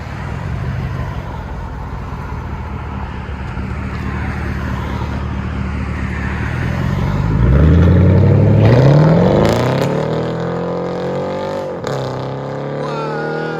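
A 2013 Chevy Camaro SS with a 6.2L V8 and straight-pipe true dual exhaust, rumbling at idle, then revving hard into a loud, rising roar before dropping back to a deep burble.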